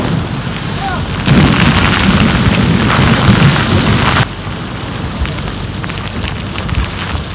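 Heavy rain pours down during a typhoon at sea while out fishing for webfoot octopus, a dense loud hiss that swells for a few seconds before easing back to a steady downpour.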